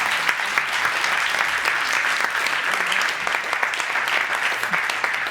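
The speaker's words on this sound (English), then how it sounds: "Big applause to all the experts." Loud, sustained applause from the audience for a panel of experts at a circular economy forum, dense even clapping that continues from start to finish.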